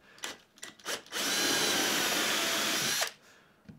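A power drill whines steadily for about two seconds, boring hinge holes in kitchen cabinet doors, close and loud, with a few short bursts and handling knocks before and after.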